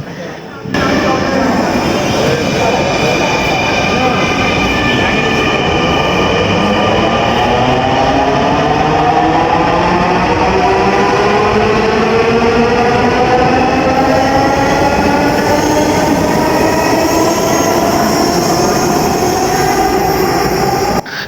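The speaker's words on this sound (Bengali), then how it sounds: "ট্রেনটি চলে গেল আপনারা দেখলেন" A Dhaka metro rail train passes loud and close, its roar steady throughout while rising and falling whine tones sweep across it; a voice may talk beneath the noise.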